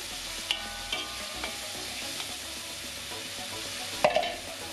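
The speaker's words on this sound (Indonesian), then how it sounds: "Kita tumis, ini si bumbu yang tadi kita giling" Freshly ground spice paste for Javanese brongkos sautés in a pan with a steady close sizzle, a few light stirring knocks and a louder clatter near the end, no speech.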